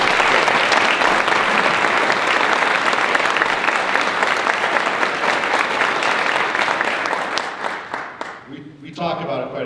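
A crowd at an elementary school ribbon-cutting ceremony gives school board members a big, sustained round of applause, loud at first and then thinning to a few claps at the end.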